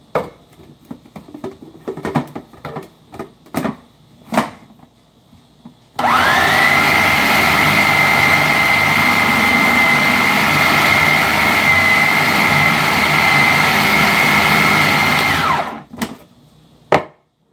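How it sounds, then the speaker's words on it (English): A food processor grinds meat for homemade chorizo, its motor starting with a rising whine and holding a loud, steady high-pitched whir for about ten seconds before cutting off, with scattered clatter and knocks before and after. "keep it down in the blade so that it can do its job without the blades whirring around and heating up the meat"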